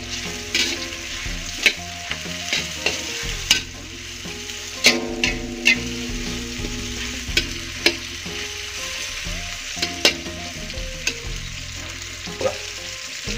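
Spice paste stir-fries in a pan for a spinach dish, a steady sizzle broken by sharp scrapes and clicks of a utensil stirring against the pan, close and loud with no voices.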